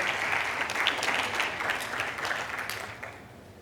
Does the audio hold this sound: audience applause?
yes